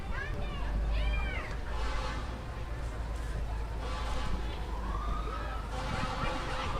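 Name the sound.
fire truck and ambulance sirens in a parade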